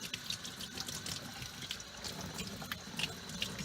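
Tap water runs steadily into a container of worm bedding, a soft continuous hiss and trickle with small splashy flickers, fairly quiet and close.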